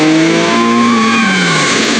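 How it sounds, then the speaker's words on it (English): A truck engine revs hard and steadily as the driver floors the accelerator, a loud, close, continuous roar with a slowly falling pitch. "With a deafening rev of the engine and a bone-shaking jolt, the truck plowed straight through the blockade in front of them."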